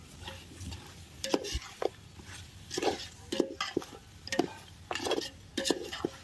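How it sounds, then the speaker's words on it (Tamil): Beef and masala stirred and mixed in a pot, a repeated scraping and clanking of a spoon against the metal in irregular strokes over a soft sizzle, close and moderately loud. "இந்த மாதிரி ஃபுல்லாக நல்லா கலரி விட்டுடணும்"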